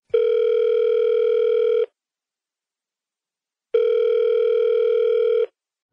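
A telephone ringback tone sounds while a call is placed: two long steady tones, each lasting nearly two seconds, separated by a silent gap. The tones are clear and electronic.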